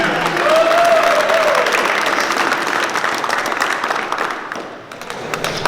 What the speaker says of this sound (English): Give Mr. Rodriguez another round of applause.